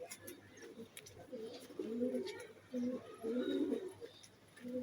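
Pigeons on a rooftop coo in soft, throaty bursts, several low rolling calls in short sequences, fairly close but quiet against faint background noise.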